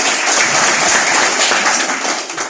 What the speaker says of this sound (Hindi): सबके लिए एक जोरदार ताली।